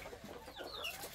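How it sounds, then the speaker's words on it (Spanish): A small chick cheeps and clucks briefly, faint and close, one or two thin rising peeps over quiet room noise. "este pollito pasmado"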